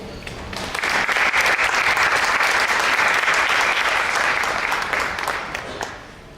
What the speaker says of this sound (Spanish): Lo dejo entonces con Prabhu Nirantara, un fuerte aplauso.